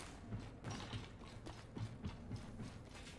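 An item-crafting machine in the video game Apex Legends whirs and ratchets, a faint repeating mechanical clicking and grinding with a steady rhythm over a few seconds.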